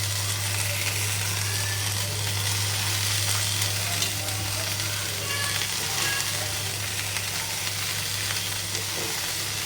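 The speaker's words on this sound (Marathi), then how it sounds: "गॅस असा फास्ट करायचा आणि भाजी फटाफट अशी हलवून घ्यायची" Dill and fenugreek leaves fry over high heat in a pan, giving a continuous bright sizzle with occasional stirring scrapes and a steady low hum underneath; no speech.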